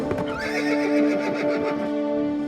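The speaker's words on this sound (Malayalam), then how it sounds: "എന്നിട്ട് തൂഫാന്റെ ഒച്ച കേട്ട് മറ്റു കുതിരകളും നിൽക്കുന്നു." A horse in a cartoon horse race lets out a loud, close neigh, a wavering whinny that holds for a couple of seconds, with faint hoof clip-clop beneath and no talking.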